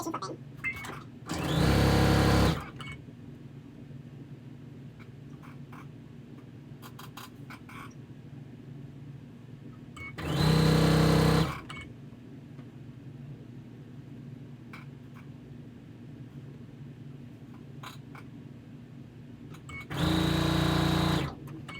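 Sewing machine stitching the final corner onto a quilt block, three separate bursts of steady motor whir, each a second or so long, set apart by quiet stretches with a low background hum.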